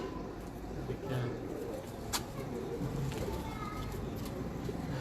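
A pigeon on a Lahore rooftop coos in soft repeated calls, close by, amid a low background hum and occasional people talking.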